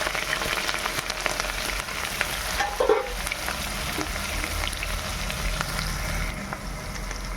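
Green chillies, onion and spices sizzle and fry steadily in hot oil for a village-style country chicken curry, a dense continuous crackle with a brief stirring clink midway and no talk.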